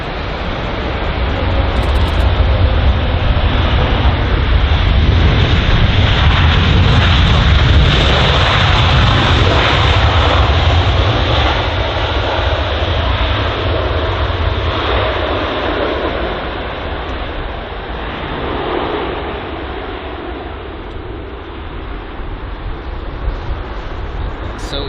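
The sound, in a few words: Emirates Airbus A380 entering the runway at London Heathrow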